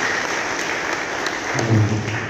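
Parents clap at a school report card handover for grade X and XI students at SMKN 3 Kupang, a steady crowd applause that swells louder toward the end.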